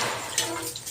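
Lugaw broth cooking in a pot, nearly at a boil, with soft watery bubbling and small splashes close by and a voice briefly heard.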